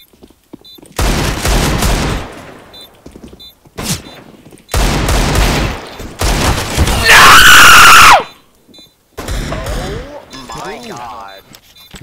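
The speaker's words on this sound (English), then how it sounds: "Do not scream like that again" A person lets out loud, piercing screams in several bursts, one long and strained, mixed with rapid gunfire and excited shouting talk.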